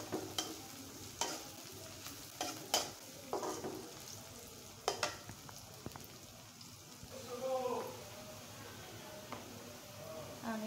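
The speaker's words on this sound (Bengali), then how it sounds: "আমি এখন এগুলো সুন্দর করে ভেজে নেব।" Vegetables fry in a pan, a soft steady sizzle broken by sharp scraping and stirring clicks, fairly close but quiet throughout.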